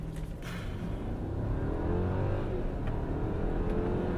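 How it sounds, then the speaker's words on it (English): A 2015 Mercedes S550 4MATIC accelerates hard at full throttle in sport mode, its engine note rising in a steady building whoosh and roar from inside the car, with no talk. "So let's smash the throttle."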